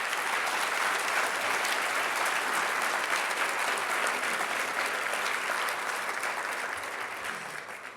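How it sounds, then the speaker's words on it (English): Sustained applause from a large audience at the 2016 Tempe MLK Diversity Awards keynote, a dense wash of clapping holding steady for the whole stretch and easing off slightly at the end. "I think that deserves a huge round of applause"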